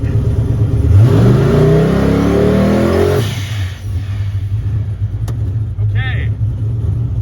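A turbocharged car launches off a trans brake in first gear, its engine revving hard and rising in pitch for about three seconds before dropping to a lower rumble, loud and close, with a voice speaking briefly afterward.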